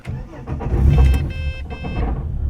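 Ford AU Falcon engine turning over and catching, then settling into a low, rough idle, loud and close, with a voice briefly heard over it.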